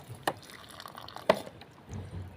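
Water trickles and drips into soil around newly planted pineapple tops, faint and close, with two brief splashy bursts over a soft running wash.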